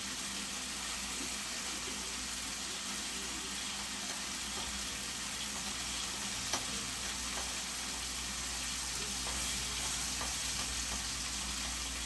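Cabbage and chicken frying in a pan, a steady close sizzle with occasional stirring clicks, heard alone without talk.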